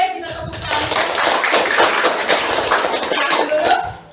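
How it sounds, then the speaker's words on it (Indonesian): Hand clapping from a class of students in a classroom, dense and steady for about four seconds at close range, with voices mixed in underneath. "Oke, kita tepuk tangan."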